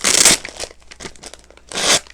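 Packaging on an Angels Tarot card deck is torn open up close, with two sharp bursts of ripping separated by softer crinkling and fiddling.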